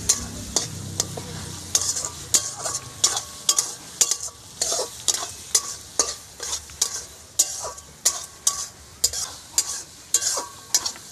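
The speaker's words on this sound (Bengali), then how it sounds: "গরম মশলা দিয়ে একটু নাড়াচাড়া করে তারপরে আমি নামিয়ে নেব।" Snail curry with garam masala being stirred in a pan, a spoon scraping in steady repeated strokes over a soft frying sizzle, close and alone with no voices.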